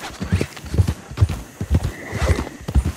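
Rapid clip-clop of horse hooves up close with a whinny partway through, steady galloping rhythm throughout, from the video game Red Dead Redemption 2.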